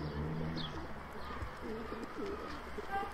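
Sivas play pigeons, breed kept as tumbling game birds, cooing softly in a loft over steady background noise, with low murmuring coos repeating through the short stretch.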